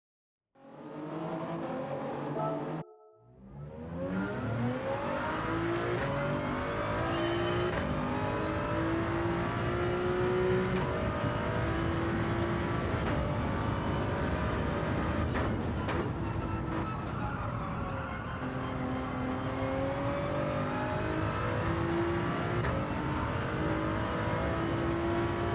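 Toyota Supra race car in Gran Turismo 7 during a lap, engine revving hard and climbing through gears with quick shift breaks, a loud continuous whine that dips briefly early on then holds high.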